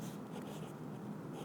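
Close, quiet scratching of a pen on paper during a class 10 quadratic equations problem, short continuous strokes with no voice over them.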